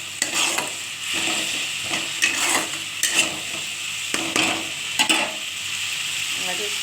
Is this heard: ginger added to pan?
yes